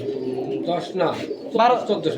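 Pigeons coo close by at a pigeon farm in Bogura, Bangladesh: a few throaty, rolling coos in quick succession, with a human voice faintly mixed in.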